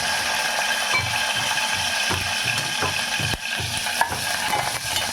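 Sabudana khichdi is stirred in a pan over a constant frying sizzle, with regular soft scraping strokes about every half second and one sharper knock, close up and without voices.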